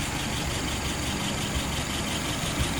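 A car engine idles steadily at about 650 rpm, a continuous broadband rumble with faint low vibration, close and even throughout with no talking.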